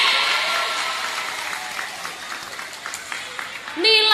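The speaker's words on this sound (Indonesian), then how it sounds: "Tepuk tangan untuk regu B" Applause for team B from a group of children at an Islamic children's gathering, a steady wash of clapping lasting several seconds, with a voice rising at the end.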